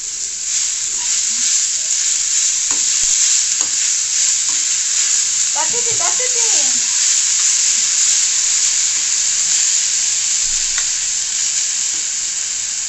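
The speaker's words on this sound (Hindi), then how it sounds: "और उसको ऐसे भूनेंगे थोड़ी देर" Saag stir-fries in a pan with a loud, constant hissing sizzle, and a few spatula scrapes and clinks break through around the middle.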